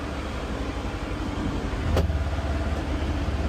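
A Polaris NorthStar Xpedition side-by-side drives along a trail, its engine a steady low drone under broadband road and cabin rumble, with a brief louder swell midway.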